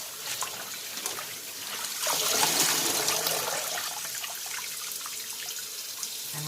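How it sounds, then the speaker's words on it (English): Tap water runs steadily into a sink while mustard greens are washed, a soft continuous splash that swells briefly in the middle, with no talking. "this is how I wash my greens"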